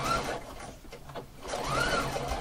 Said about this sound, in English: I'm going to keep on sewing until I get to the end